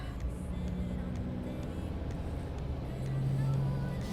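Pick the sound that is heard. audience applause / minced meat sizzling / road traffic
road traffic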